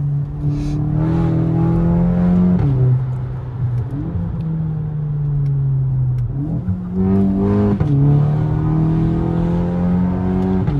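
A VW Golf 7 GTI Facelift with a Stage 2 tune driven hard, engine revving up through gears with rising tones, shift drops and a deep exhaust rumble, loud and close without talk.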